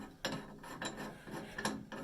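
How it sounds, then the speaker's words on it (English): Unscrewing the cap assembly of a Delta 600 series shower valve: a few quiet, close scraping and ratcheting clicks of metal parts turning, spaced unevenly, with no voices. "So we're loosening this, unscrewing cap assembly,"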